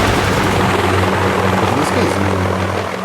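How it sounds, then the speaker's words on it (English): Heavy and rocket helicopters attack in the Boom Beach mobile game: a loud, continuous rotor and engine drone with a steady buzzing hum, and a voice speaks briefly over it. "4 heavy choppers and 4 rocket choppers with Sparky"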